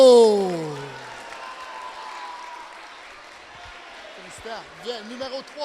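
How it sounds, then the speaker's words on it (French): Students in a school setting applaud a bronze medal winner at an awards ceremony, a steady wash of clapping that starts under a voice and fades slightly, with murmuring and a few voices near the end. "pour la médaille de bronze, on l'applaudit très fort"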